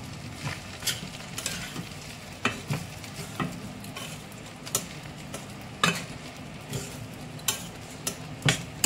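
Pointed gourd (parwal) fries with ground cumin in a pan while a utensil stirs it, producing a soft steady sizzle punctuated by regular sharp scraping and tapping strokes against the pan.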